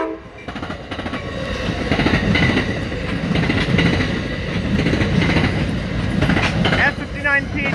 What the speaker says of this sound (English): here comes San Joaquin train 702.